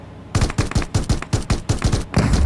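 Rapid gunfire in PUBG Mobile: about nine loud, sharp shots in a quick, even rhythm, close and punchy, ending in a denser burst.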